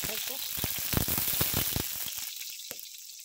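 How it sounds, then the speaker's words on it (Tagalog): Onions sauté in hot oil with browned garlic for a mung bean stew, giving a close, steady sizzle with crackling pops and stirring that fades toward the end. "Ngayon, gisa natin ang sibuyas."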